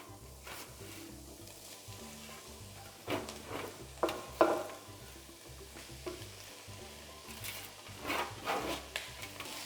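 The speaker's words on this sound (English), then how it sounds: "Now we're going to add in the butternut squash and the carrot" Butternut squash and carrot being stirred in a pan, with a soft steady sizzle and intermittent scraping and clacking of a utensil, gentle and moderately quiet, no voices.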